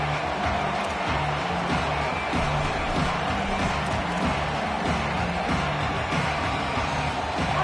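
A constant roar from a large stadium crowd at a college football game in a video game, with a steady dense wash of voices and rhythmic low thumps underneath, no distinct talk.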